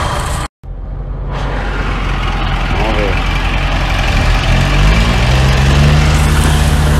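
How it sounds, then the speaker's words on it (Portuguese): Tow truck engine rumbling as it arrives to pull out a tractor stuck in mud, with a Pajero Full pickup nearby; a steady, loud low drone runs throughout, rising in pitch toward the end, with people talking over it. "Agora vem um guincho pra salvar nós."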